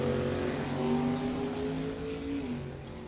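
A 1980 Chevrolet Malibu and a 1953 Studebaker run side by side down a drag strip, their engines roaring loud and steady with a rising pitch that tapers slightly at the end.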